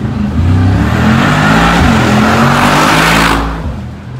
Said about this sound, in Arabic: 2023 جي واغن مرسيدس بنز جي 63 ام جي في 8 بي توربو